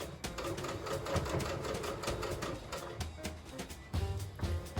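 A sewing machine stitches around the seam of a ribbon skirt, a rapid rattling chatter of the needle running in short continuous bursts with small pauses, fairly quiet and close.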